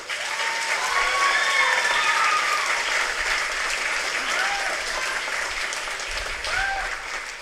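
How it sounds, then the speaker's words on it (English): Audience applauding the Waipahu High School Symphonic Band at its spring concert, a steady sustained wash of clapping throughout, with a few faint voices or whoops rising briefly above it. "How about another round of applause for the Symphonic Band?"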